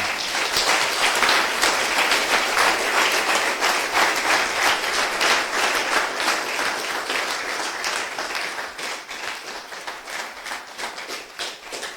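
A church congregation applauds a student during a worship service, with dense, loud clapping that fills the room and holds steady for the whole stretch before easing slightly toward the end.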